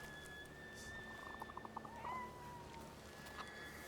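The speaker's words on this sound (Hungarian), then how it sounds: "Akkor hallok valahol egy macska nyávogást?" A cat meows faintly in the video game The Thaumaturge, giving a few short thin cries set against a quiet ambient bed with faint tonal effects.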